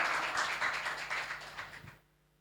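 Audience applause at an Indonesian talk show, a dense steady wash of many hands clapping for about two seconds before stopping abruptly.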